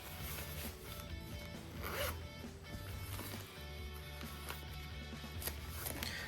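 The zipper on a waterproof-looking carrying bag for a DJI Mic Mini 2 being pulled, a close continuous rasping zip running steadily throughout with a few brief scrapes and no talk.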